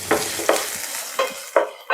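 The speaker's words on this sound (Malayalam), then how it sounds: "അരമുറി സവാള, ഒരു ചെറിയ പച്ചമുളക്, ഒരു ചെറിയ കഷ്ണം ഇഞ്ചി ചെറുതായിട്ട് പൊടിയായിട്ട് അരിഞ്ഞെടുത്താണ് അത് ഇട്ട് കൊടുക്കുക." Finely chopped onion, green chilli and ginger sizzling in oil with mustard seeds, stirred with about five distinct close scraping strokes over a light background sizzle.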